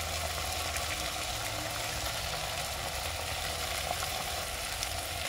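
Beaten egg poured over vegetables in a hot frying pan gives a steady, even sizzle that holds at one level throughout, with no talk.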